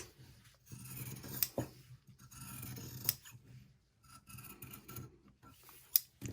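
Scissors snip through fabric along a plushie pattern, close and quiet, with soft sliding cuts broken by a few sharp blade clicks spaced over several seconds.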